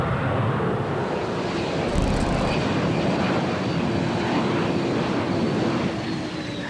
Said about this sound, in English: NASA's quiet short-haul research aircraft.